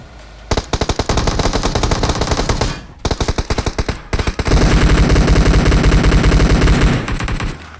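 Rapid bursts of automatic gunfire in a battle royale video game, several volleys of sharp rattling shots separated by short pauses, then a longer sustained burst, loud and close with no speech.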